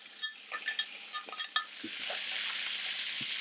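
Ground beef with frozen green beans and peas cooking in a pan for shepherd's pie, a few scraping stirs and clinks giving way to a steady, soft sizzle that continues alone.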